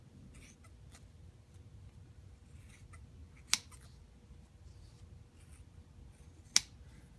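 Scissors trimming excess padding material for a shoe insert, heard as two sharp, isolated snips several seconds apart over a faint low hum in a quiet room.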